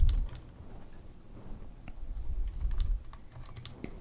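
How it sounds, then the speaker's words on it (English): Rapid typing on a computer keyboard during a tabletop miniatures session, a quick irregular stream of soft clicks and taps heard close and alone, with no talking. "I'm typing like a madman over here"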